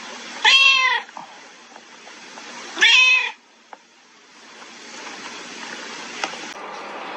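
A cat meows loudly twice in drawn-out, wavering calls close by, followed by a faint tick and quieter room noise.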